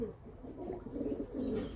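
Pigeon cooing in low, soft repeated phrases, fairly close and steady over about two seconds, with faint background noise and no talk.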